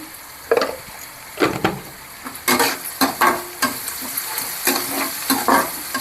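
Onions sautéing in a pan with a little turmeric for a kara kuzhambu, a soft background sizzle broken by repeated scraping stirs of a spatula, close and fairly loud.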